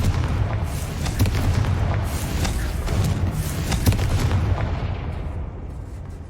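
Confringo fire-spell explosions in Hogwarts Legacy: deep, rolling booms and bursts layer into a continuous loud rumble with repeated sharp blasts, slowly fading toward the end.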